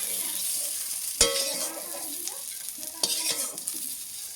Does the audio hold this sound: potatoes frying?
yes